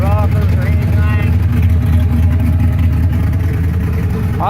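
A 1967 Chevrolet Camaro's engine runs steadily and loud close by, with a strong low rumble held for the whole stretch and voices briefly over it.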